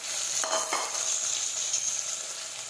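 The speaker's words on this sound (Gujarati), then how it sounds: "હવે આપણે સાતળી લઈશું." Chopped brinjal, potato and pigeon peas with asafoetida are stirred and sautéed in a hot pan, producing a close, bright sizzle with a couple of quick scraping stirs early on and no voices.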